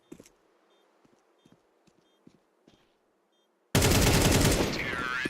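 Scattered gunshots in Counter-Strike 2 during an EWC 2026 group-stage esports match, a few sharp pops with footstep-like ticks between them, then a sudden loud dense burst that fills the last second and a half.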